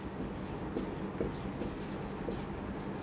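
A marker or chalk writing a number on a classroom board makes soft scratchy strokes and light taps in an uneven rhythm, close by, over a steady background rumble with no speech.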